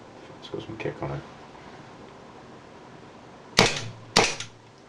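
A custom airsoft 1911 pistol fires two sharp, loud shots about half a second apart, following a moment of quiet talk nearby.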